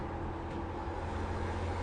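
Onboard a stock race car in a Midwest Winston Cup Series event, a steady dense engine drone with a low rumble as it works through the turns, no voices.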